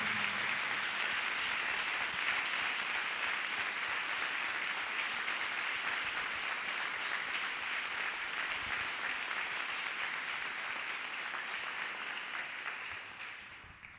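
Congregation clapping hands in church, a steady sustained wash of many people applauding together for about thirteen seconds, even and continuous before fading slightly at the end, with no voices over it.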